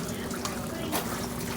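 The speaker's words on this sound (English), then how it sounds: "This is the oldest fountain." Spring water flowing steadily from Florida's oldest fountain, a continuous close splash and trickle like a running tap, with faint voices in the background.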